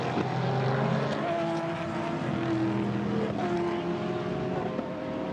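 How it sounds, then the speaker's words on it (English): Race cars, a Viper and a Ferrari, racing at night, a continuous roar of engines with shifting pitches as cars pass, fairly loud with no talk. "That's Sasha Burt in the Viper with Claudio Ricci behind him in the very nimble Ferrari."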